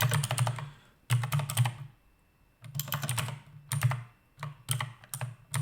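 Typing on a computer keyboard while entering an fzf fuzzy-search command in a terminal: bursts of rapid, close clicking keystrokes separated by short pauses, with no talking.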